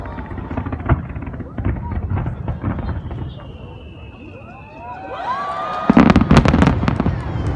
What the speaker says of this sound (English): while the fireworks have been firing